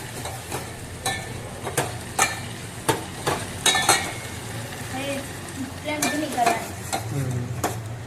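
A utensil stirs food frying in a pan, giving repeated sharp clinks and scrapes against the metal over a steady sizzle, close and moderately loud.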